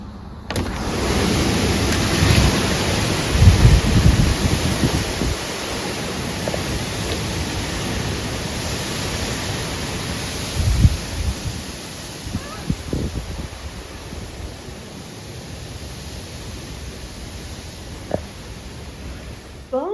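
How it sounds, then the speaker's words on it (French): Strong wind blows steadily across the microphone as a broad roaring rush, with occasional buffeting gusts and thumps. "Là, c'est le beau soleil, mais le vent, il est fort, fort, fort."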